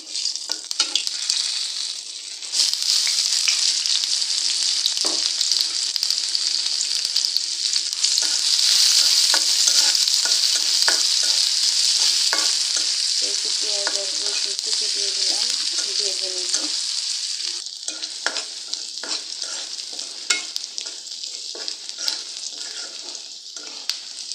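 Panch phoron spices frying in hot oil for dal, a loud continuous sizzling hiss with scattered pops and crackles and some stirring, no talk.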